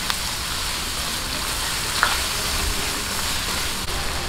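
Chicken sizzles and fries steadily in a hot pan while being sautéed for ginisang labanos, a dense continuous crackle with a brief stir or clink partway through and no voices.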